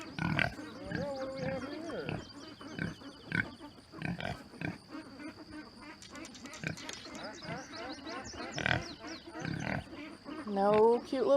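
A pig grunts and snorts repeatedly at close range while people talk over it, the noises coming in irregular bursts.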